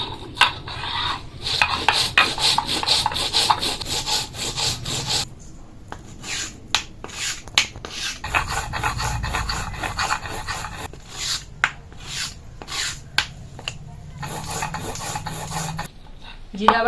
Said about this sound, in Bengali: গোটা জিরা বেটে নিব।